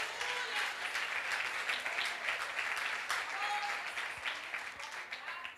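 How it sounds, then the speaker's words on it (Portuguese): An audience applauds at a seminar, a dense steady round of clapping at moderate level that tapers slightly toward the end. "pode aplaudir"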